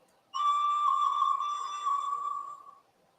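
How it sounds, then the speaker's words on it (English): The Flying Scotsman steam locomotive's whistle gives a single steady, clear blast of about two and a half seconds that fades out at the end, heard alone and fairly faint. "let's have a blast of Flying Scotsman's whistle"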